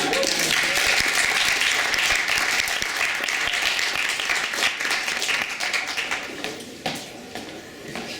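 Sustained audience applause after a comedian's set at a 2015 Bulldog Days comedy show: dense, loud clapping that holds steady, then slowly thins toward the end.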